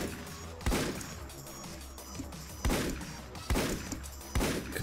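Gunfire and explosions in the game Paranautical Activity, with four sharp, loud broadband blasts spaced about a second apart over a low, steady game soundscape.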